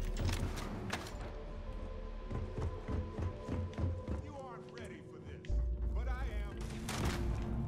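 Gunfire in Starfield: many rapid, sharp gunshot bursts crackling through a busy combat scene, with swooping electronic effects and a deep rumble near the end.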